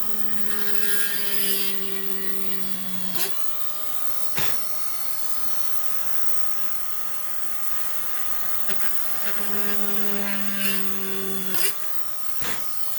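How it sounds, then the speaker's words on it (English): A small high-speed electronics PCB drill whines steadily with tonal humming as it drills hard plastic, broken by occasional sharp clicks and knocks. "It's an electronics PCB drill, and it's really what you want to be using on some hard plastic"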